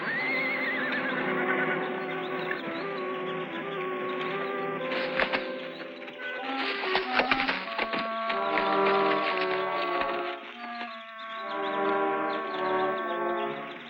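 A wild mustang in an old Western film whinnies and neighs several times, loud and close, over a busy, steady soundtrack background.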